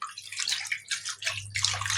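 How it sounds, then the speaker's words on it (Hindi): Raw chicken being washed under a running kitchen tap at home, ahead of cooking biryani: steady splashing and gurgling water, close and moderately loud, with no talking. "अभी धो रही हूँ मैं चिकन"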